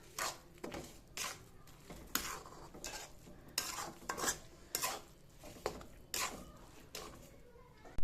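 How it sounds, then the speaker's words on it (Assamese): A utensil scrapes rhythmically around a pan of frying grated coconut, roughly one stroke per second, with a light sizzle underneath. "এইফালে নাৰিকল ভাজি থকা হৈছে, মই লাৰি দি আছোঁ"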